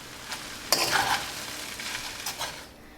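Spoon stirring cooked potato and soaked tapioca pearls together in a pan for sabudana khichdi, soft scraping and stirring strokes with a faint sizzle, close and moderately loud.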